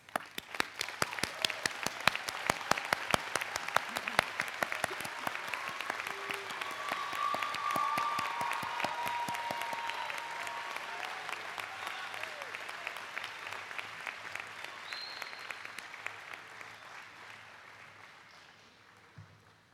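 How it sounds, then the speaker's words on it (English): An audience at a college psychology commencement ceremony applauds honor society members, sustained clapping with crisp individual claps at first, swelling into a steady wash and fading out over about twenty seconds. "I ask that all members of Psi Chi, Phi Kappa Phi, and Phi Beta Kappa to stand as we applaud your accomplishments."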